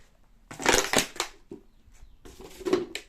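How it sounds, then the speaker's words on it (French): A glass bottle crunches and clatters underfoot in a few rough bursts of footsteps, close by, with short quiet gaps between them, inside an abandoned house. "C'est une putain de bouteille qui me fait faire du bruit"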